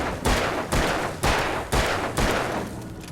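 Gunfire from the horror shooter Alan Wake: four loud, evenly spaced gunshots cracking out in sequence, each with a broad blast that decays into a reverberant tail, with no talking over them.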